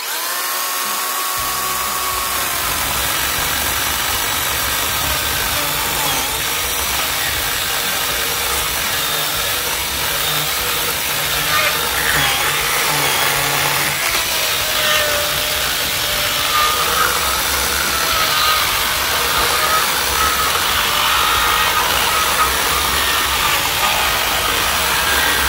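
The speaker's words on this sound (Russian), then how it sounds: "Если я возьму сейчас щеточную модель, то это будет, я даже не знаю, как это будет очень долго" A Makita cordless chainsaw, DUC302 or DUC356, saws through wood with a loud sustained whine that holds steady for the whole stretch, close by and with no voices.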